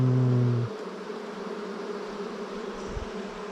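Honey bees in an opened hive during a mite check, a steady close droning buzz that holds evenly throughout after a brief louder hum at the start.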